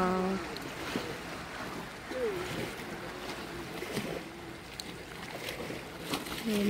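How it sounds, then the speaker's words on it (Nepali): Boats out on a lake at a boating spot, with faint lapping water and wind on the surface, distant rowing or boat noise, and soft voices and tonal sounds in the background. "ओहो बोटिङ गर्ने ठाउँ। यहाँ बोटिङ हुँदैछ।"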